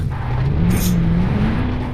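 A truck engine in the mobile battle royale game BGMI drones steadily with a low rising pitch, a continuous mid-level motor hum through the whole moment with no talk.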